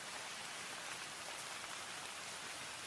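Steady rain falls without a break, a dense, even hiss of drops striking a surface, moderately close and constant throughout.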